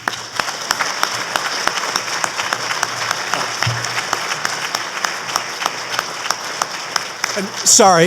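Audience applause welcoming lecturer Dr. Michael Flamm at a lecture, a steady, dense clapping from a crowd sustained for about eight seconds, swelling slightly at the very end.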